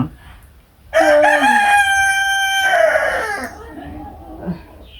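A rooster lets out one long, loud crow close by, its drawn-out call rising and then trailing off, followed by quieter background noise around a rural household's chicken coop.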